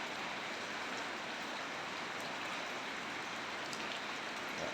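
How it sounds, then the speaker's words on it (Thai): Steady rain pours down continuously, a dense even hiss of drops on surfaces with no voices, close and constant throughout. "มีฝนครับ เย็นอากาศดีครับ ฝนตกพี่น้อง"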